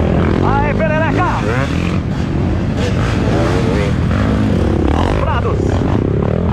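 Trail motorcycles rev and accelerate at the muddy start of the 5th Trilhão Rasga Trilha in Ivoti, Rio Grande do Sul. Loud engine roar runs underneath excited shouting and constant talk from a nearby announcer.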